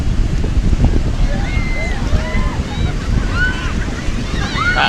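Strong ocean waves roll and wash in at Ambal beach, a dense, loud surf roar with gusty wind buffeting the microphone and faint distant voices drifting over the top.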